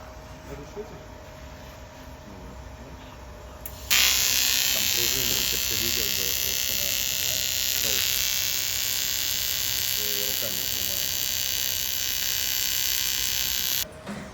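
Welding on a homemade American-style barbecue being built in Moscow: a loud, steady electric buzzing hiss starts abruptly and runs for about ten seconds before cutting off, close by, with quieter background noise on either side.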